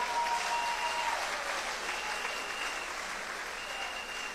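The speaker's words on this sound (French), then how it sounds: "Il faut applaudir le président Bédier." Audience applause at a political gathering of the Ivorian opposition, a continuous even wash of many hands clapping, moderately distant and fairly soft, sustained throughout.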